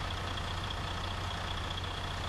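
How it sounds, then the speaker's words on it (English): A Freightliner truck engine idles steadily during an A/C performance test, a continuous low, even rumble with a faint high whine on top and no voices. "here you can see the truck is idling"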